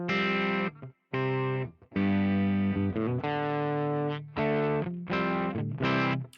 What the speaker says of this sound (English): what you're hearing, that is true 6L6 tube distortion